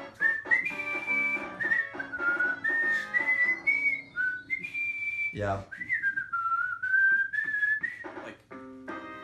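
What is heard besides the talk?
person whistling a tune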